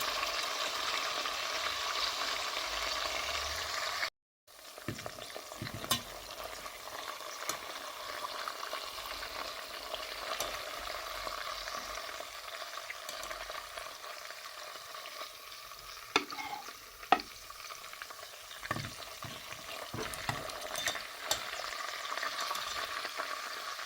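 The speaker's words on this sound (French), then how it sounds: "Et vu que c'est de la viande hachée, vos boulettes vont cuire assez rapidement." Minced-meat meatballs frying in a pan give a steady, close sizzle with crackling and spitting, briefly cut to silence once, then resuming with occasional louder pops.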